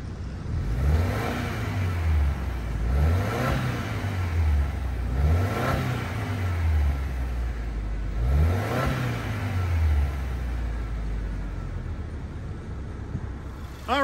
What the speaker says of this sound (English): So let's see how this thing sounds.